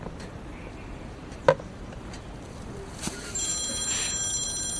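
A telephone rings with a spam call during a restaurant meal in a drama scene, a faint brief electronic ring that comes up near the end over quiet room tone, with a sharp click just before.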